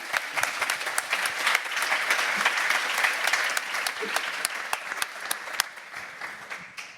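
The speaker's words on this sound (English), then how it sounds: "round of applause, please" Audience at a symposium session on seascape restoration gives a steady round of applause, dense and sustained clapping throughout, close and loud, fading slightly at the end.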